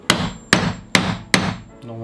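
A hammer strikes a metal punch through sneaker leather four times in an even rhythm, each blow a loud, sharp crack with a short ringing tail.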